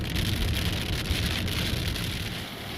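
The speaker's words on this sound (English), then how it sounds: "It's raining a little bit." Soft, steady rain patters on a surface nearby, a constant gentle hiss with no voices.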